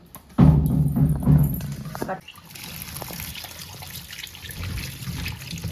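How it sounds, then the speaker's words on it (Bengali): Cut pieces of chalta, or elephant apple, are washed in water, giving a loud close splashing and sloshing burst that settles into softer trickling and dribbling, with a voice talking over it. "চলো এবার ভালো করে সুন্দর করে ধুয়ে নেবো।"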